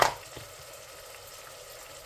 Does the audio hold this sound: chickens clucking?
no